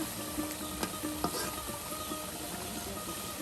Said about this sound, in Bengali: এই দেখুন মশলার সাথে কত সুন্দর করে আপনার কষিয়ে নেওয়া হচ্ছে।